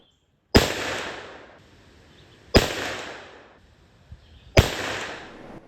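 Three loud muzzleloader shots fired with 100 grains of Pyrodex pellets behind a 250-grain Parker Production Ballistic Extreme bullet, each a sharp close blast about two seconds apart with a ringing decay, plus a faint click between the second and third.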